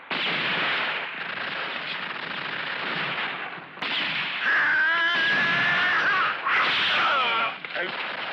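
Sustained machine gun fire in a spaghetti western gunfight, dense rapid bursts that run almost without pause, loud and harsh, with a shrill whine and other action noise cutting through partway.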